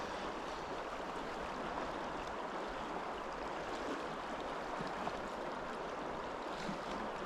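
A small wadeable salmon river runs steadily, with a continuous broadband rush of flowing water close by and no talk.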